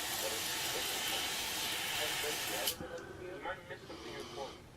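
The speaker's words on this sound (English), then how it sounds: "So I'm going to spray some stripper in there and see how it works." A loud continuous hiss of an aerosol can spraying paint stripper for nearly three seconds, then it cuts off and someone speaks briefly.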